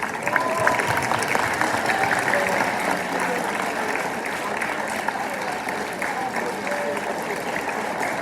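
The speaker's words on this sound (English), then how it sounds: "Let's just thank them with some applause." An audience at a school Veterans Day program claps steadily in a dense, sustained round of applause that holds at an even level throughout.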